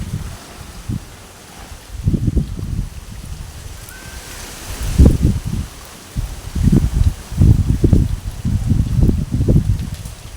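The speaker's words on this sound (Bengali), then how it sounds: "বাপরে কি হাওয়া।" Strong wind blows outdoors near a mango tree, buffeting the microphone in repeated heavy low gusts that rise and fall over a steady rushing background, with no voices.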